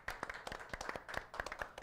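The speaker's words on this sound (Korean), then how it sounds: "박수 부탁드립니다." A small group claps close by at a brisk, uneven pace in a radio studio. The claps are quick and overlapping, steady across the whole stretch, with no talk over them.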